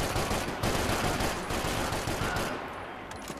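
Video game gunfire in Max Payne 3 ending in a headshot, a dense loud burst of shots and impacts that fades at the end.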